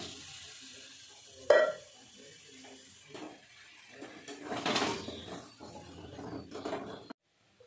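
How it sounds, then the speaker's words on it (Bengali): Meat dropped into a pan of fried-down spice paste, with a sudden loud clatter and then a bright sizzle that swells and fades alongside scraping and stirring, low and close up. "দেখতেই পাচ্ছ মাংসটা আমি ছেড়ে দিচ্ছি।"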